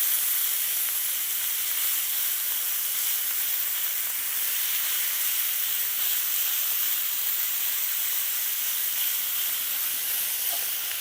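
Ground ginger beef sears steadily in a hot pan, a continuous bright hiss of sizzling that stays loud and even throughout with no talk over it.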